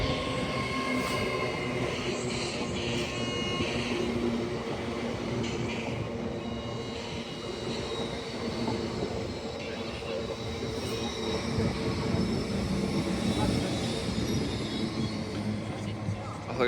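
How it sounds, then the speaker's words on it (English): An LNER Class 801 train departs York station toward London King's Cross, rolling wheel noise and rail clatter with occasional squeals, while people talk nearby over the platform ambience. "Departing now is 801 working at LNER Zuma service to London King's Cross."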